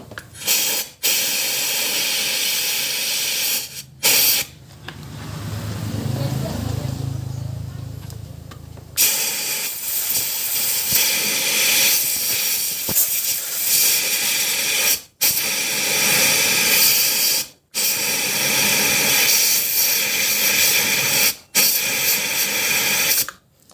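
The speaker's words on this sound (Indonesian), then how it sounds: "Karena kompresor saya ada saringan udaranya dan saringan airnya, jadi kita bisa semprot menggunakan kompresor." An air compressor fitted with air and water filters blasts compressed air to clean motorcycle oil parts during an oil change. It makes a loud, close, rushing hiss in long bursts broken by brief pauses.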